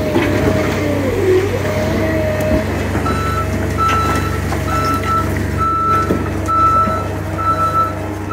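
A skid loader working around cribbing under a 100-year-old house emits steady, evenly spaced reversing beeps over a constant diesel engine rumble, loud and close.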